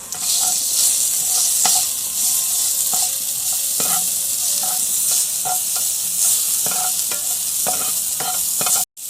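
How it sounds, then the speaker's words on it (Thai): Garlic stir-fried in a pan for pork and kimchi, with a steady loud sizzle and frying hiss throughout and intermittent sharp scraping stir strokes of a utensil against the pan. "ใส่กระเทียมลงไปผัดนะครับ"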